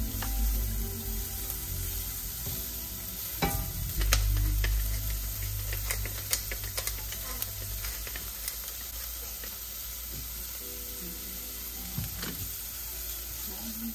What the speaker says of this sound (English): After frying your onion until it's translucent